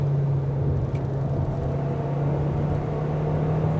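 A Kia Sportage driving in third gear on a wet Genting mountain road, giving a steady low engine drone and road rumble from inside the cabin, constant and unbroken throughout.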